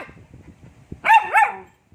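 After a stretch of quiet low murmuring, a dog gives a close, loud two-part bark with a wavering, yowling pitch that drops off quickly.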